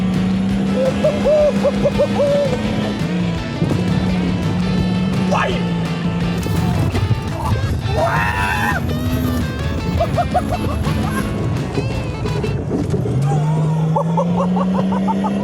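Car engine, a vehicle fitted with a short straight-through exhaust, revving loudly and climbing through the gears with drops in pitch at each shift, heard close amid excited shouting and cheering.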